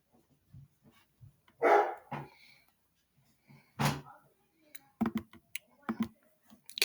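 Dogs barking outdoors as a car passes, scattered sharp barks at varying distance separated by quiet gaps, with faint clicks and brief noises in between.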